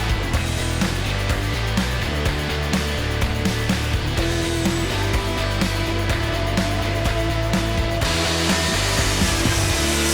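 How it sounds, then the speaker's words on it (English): An angle grinder fitted with a flat disc grinds wood trim to cope a joint during a living room window and door trim build, a loud continuous abrasive whine with slight rhythmic surges, close up and alone without talk. "the angle grinder with the flat disc seemed the fastest and easiest to me, so that's what I went with"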